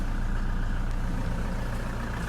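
A Toyota Hilux 3.0 D4-D 170 Invincible automatic pickup idles with a steady, low diesel rumble, constant and unbroken.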